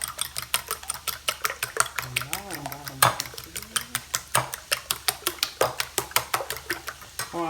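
Eggs beaten briskly in a bowl for a quiche, a fork or whisk tapping steadily against the sides in a fast, regular clicking rhythm, close and clear, with brief voice-like tones partway through.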